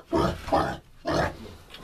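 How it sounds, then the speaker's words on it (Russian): A young white sow, about seven months old, gives three loud, close grunts in quick succession. "Свинка у меня."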